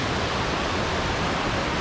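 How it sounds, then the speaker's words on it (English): Steady broadband rush of an indoor waterfall fountain cascading between escalators in a shopping mall, a continuous close, even wash of falling water with no voices. "These waterfalls between the escalators remind me a lot of what the waterfalls at the Paramus Park Mall in New Jersey used to look like."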